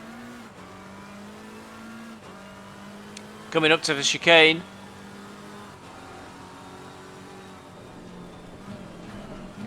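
GT race cars drone around a circuit in Assetto Corsa Competizione, a steady engine hum with a short burst of high revving and shifting near a chicane, heard beneath continuous commentary.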